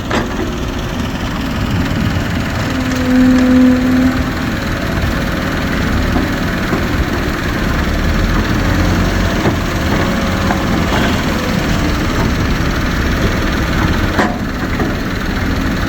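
A crane's heavy engine idles and runs steadily as it loads soil into a tractor trolley, a constant low rumble with vibration that continues throughout and has no break or talk.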